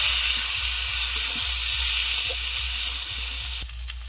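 Chopped tomato hits hot oil in a pan during a meat curry, with ginger paste already in. A steady, close hiss and sizzle carries faint crackles and pops, then drops quieter near the end.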